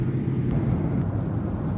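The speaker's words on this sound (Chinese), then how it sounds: "现在飞机已经推出，准备起飞" Inside a Shandong Airlines airliner on a morning flight, taxiing and waiting in line for takeoff: a steady, low engine rumble and cabin drone with no voices.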